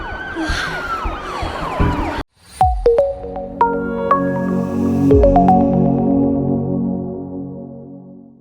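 An ambulance siren gives a rising and falling electronic wail at first, then cuts to sharp separate tones that ring out and fade, loud and near, with no voices.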